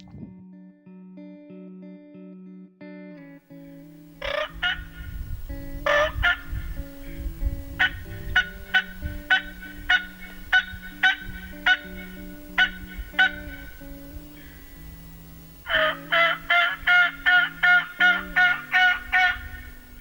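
Wild turkey tom gobbling during a spring hunt in Missouri: several loud, rattling gobble bursts, one around the middle and a fast run near the end, over a steady low hum, close and with no talk.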